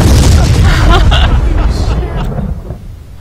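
A loud, close detonation in the video game Arma II bursts at once into a deep, rumbling boom that rolls on and slowly fades over a few seconds, with a voice faintly present.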